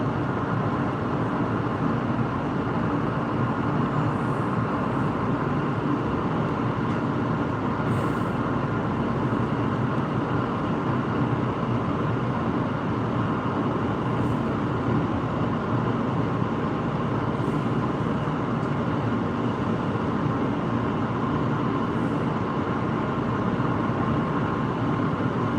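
Steady rumble of a new Red Line train moving slowly, creeping along behind a broken-down train ahead, a continuous, even drone that holds throughout with no voices.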